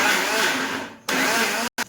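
A mixer grinder whirs loudly up close grinding soaked sago with water into a fine paste, runs for a stretch, cuts off briefly, restarts, then stops and gives a final short burst.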